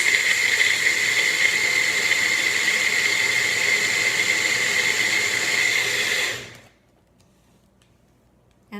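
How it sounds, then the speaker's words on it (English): Blender whirring a fruit popsicle mixture: a steady, loud motor whine with bright hissing hum running about six seconds, then cutting off abruptly into near silence. "all you need to do is to blend it"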